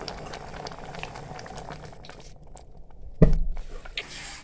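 Thickened tamarind chutney bubbles in a pot after about fifteen minutes of cooking, a close, thick plopping and gurgling boil with a louder burst of bubbles near the end.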